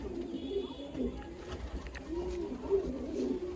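Several domestic pigeons at a pigeon sale coo in repeated low, rolling phrases, near and moderate in level, with faint background noise and scattered small knocks.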